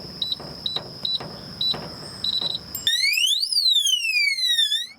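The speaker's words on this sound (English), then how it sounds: "so after 3 attempts, if you enter the code wrong, it'll set off an alarm." A Kaer gun safe keypad sounds its alarm after repeated wrong code entries: first a string of short high beeps, then a loud rising and falling electronic siren that wails continuously.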